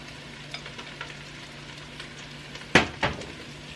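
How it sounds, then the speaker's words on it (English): Carrots tipped into cabbage already frying in a pan for a low-carb egg roll in a bowl, giving a steady soft sizzle with two sharp clattering thumps of food and utensil near the end. "I'm going to go ahead and just add in my carrots to the cabbage"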